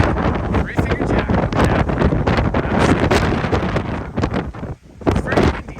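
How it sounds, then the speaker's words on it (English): Strong wind buffets the microphone at the turnaround point of a mountain trail near Three Fingered Jack, a loud, continuous roaring rush that gusts and briefly drops away near the end. "It's very windy today."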